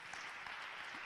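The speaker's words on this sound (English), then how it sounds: "Can we just give God a hand clap for them?" A congregation claps briefly during a church worship service, a faint, even wash of hand claps with no voices over it.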